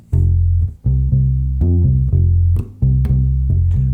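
A deep bossa nova bass line on a bass instrument, with a little skip of added eighth notes on beat four. The notes are loud, close and clearly separated, in a steady rhythm with no talking.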